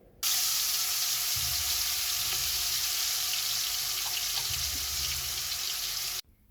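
Tilapia fish lowered into hot soybean oil in a wok sets off a sudden loud, steady sizzle that holds for about six seconds, then cuts off abruptly.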